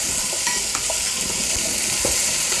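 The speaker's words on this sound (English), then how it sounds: "Saute for a couple of minutes the onions and then you add all the vegetables, adding the potatoes." Onions, potatoes and capsicum sautéing in a pan, with a steady close sizzle and occasional stirring scrapes.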